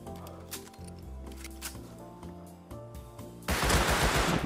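Gunfire in the survival game Rust Console Edition, a few sharp shots scattered over music and clatter before a loud, dense burst of fire at the end, close and heavy.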